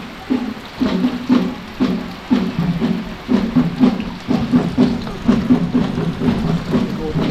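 Heavy rain falls in a steady downpour, loud and close, with a pulsing, drumming texture as it hits a nearby surface.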